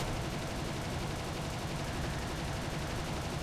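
20 mm aircraft cannon fire in the War Thunder flight game, shooting at an H8K2 flying boat: a dense, continuous rattling burst of rapid shots, steady and fairly quiet throughout with no talk.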